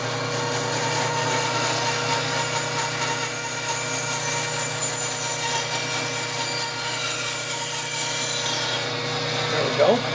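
A wooden bandsaw box turns on a wood lathe, giving a steady rubbing, scraping drone with a constant motor hum underneath, unbroken for ten seconds and close by.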